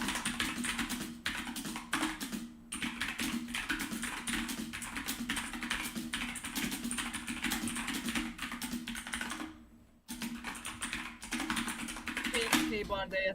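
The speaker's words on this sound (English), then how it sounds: "Hold on, I need to type that into best comments." Rapid, continuous typing on a computer keyboard, close and fairly loud, with dense clicking that pauses briefly twice and ends in a scatter of final taps.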